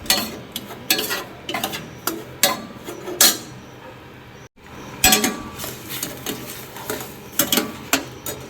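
A spoon stirring semolina (suji) in a metal pot on the stove: steady, repeated clinking scrapes against the pot's sides, close and fairly loud, with a brief pause midway before the rhythmic stirring resumes.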